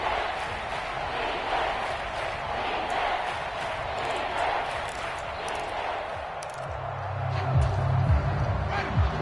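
In a PS4 American football video game, a stadium crowd roars steadily and swells toward a big third down, with some talking mixed in.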